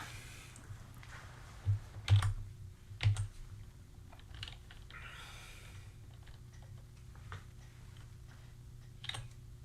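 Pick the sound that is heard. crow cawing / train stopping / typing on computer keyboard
typing on computer keyboard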